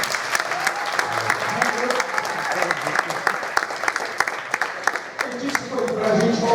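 Audience giving a round of applause, steady crowded clapping throughout with scattered voices underneath.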